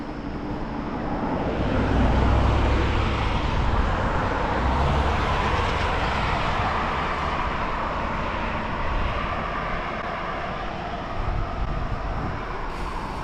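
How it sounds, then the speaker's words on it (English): Steady roar of fast traffic on a busy road beside merge ramps, heard from a bicycle, loud and continuous with a swelling pass early on and no talking. "A busy section of road here."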